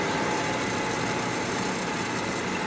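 A Citroen 2CV's small engine drones steadily at close range, a continuous buzzing hum with no pauses or voices.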